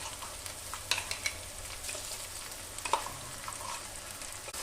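A paste of ginger, garlic, tomato and whole Kashmiri red chili fries with onions in a pan, a steady close sizzle with occasional stirring clinks and scrapes throughout.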